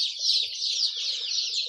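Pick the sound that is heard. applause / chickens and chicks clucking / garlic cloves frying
chickens and chicks clucking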